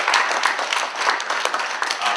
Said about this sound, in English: I'll give them a round of applause for the candidate.